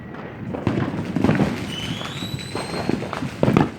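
Fourth of July fireworks over Los Angeles: a scatter of distant booms and crackling bursts, with a couple of thin rising whistles of rockets, moderately faint and echoing across the city.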